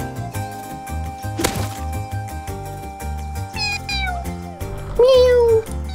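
A kitten meows in a rising, whiny cry near the end, preceded by softer mews, over steady game music with a sharp thwack midway while a person talks throughout.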